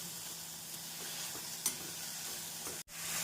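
Onions, tomatoes and spice masala sizzle and fry steadily in a pan for a chicken kulambu, with occasional stirring scrapes, close and continuous before cutting off abruptly near the end.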